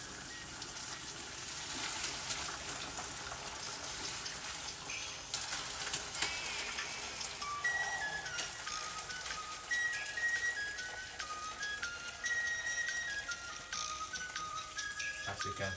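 Zobo drink, a hibiscus brew, is poured through a filter in a home kitchen, giving a steady thin trickle and splash of liquid that runs on without break, fairly quiet, with no talking.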